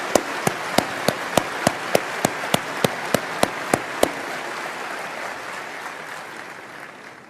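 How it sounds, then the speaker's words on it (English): About a dozen sharp, evenly spaced claps ring out from a shareholder meeting audience, followed by a softer wash of applause that fades out. "I'll lead the applause for them."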